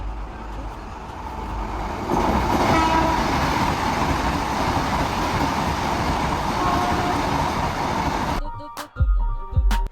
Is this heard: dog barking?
no